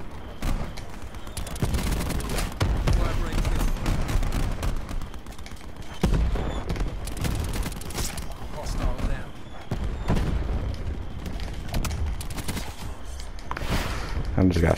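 Rapid bursts of gunfire and explosive pops in Call of Duty Black Ops 4 multiplayer, with repeated volleys across the stretch, mixed under frequent talking.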